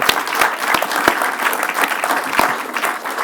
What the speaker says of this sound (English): I think he deserves a great big round of applause.